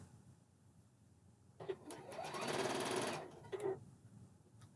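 A Juki MCS1500 coverstitch machine sews narrow elastic onto knickers, running in one steady whirring burst of about two seconds with brief starts before and after, close and clear over a quiet room.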